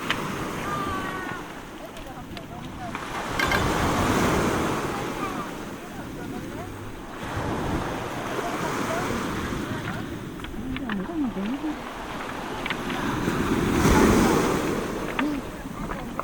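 Ocean waves wash and break along the shore at Geoje, South Korea, rising and falling in broad surges with wind noise, while people talk nearby.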